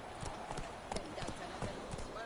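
A horse's hooves clip-clop at a steady walking pace in The Witcher video game, quiet and close, with voices talking over the footsteps.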